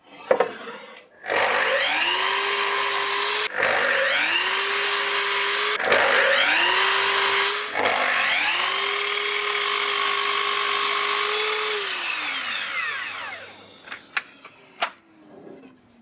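A power saw spins up and makes several sustained cuts through plywood in a woodworking shop, each cut a steady whining drone of a few seconds, followed by the blade winding down and a few light knocks.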